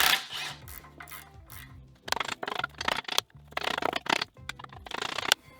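A hand ratchet works on the suspension of an Audi TT as the shock, spring and upper control arm come off, heard as several bursts of close, rapid clicking separated by brief pauses.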